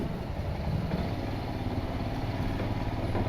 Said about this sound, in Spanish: Acá vamos a pasar por un puente peatonal de moto